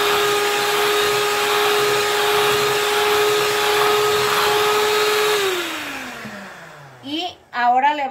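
An electric hand mixer beats a batter of eggs, sugar, cheese and pineapple jam, a loud steady whirring drone that winds down after a few seconds and stops, followed by brief clatter.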